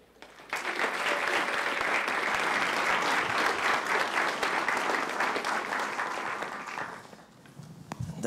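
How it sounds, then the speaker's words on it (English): An audience applauds to welcome a speaker at a university leadership event, a dense burst of clapping that starts suddenly, holds steady and loud, then fades out near the end. "Please help me in welcoming Mr. Mark Spain."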